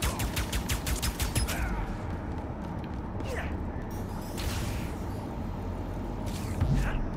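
Gunfire aimed at enemies in Ratchet & Clank: Rift Apart, opening with a rapid burst of evenly spaced shots. Scattered bangs and mechanical clatter follow over a dense background of game noise.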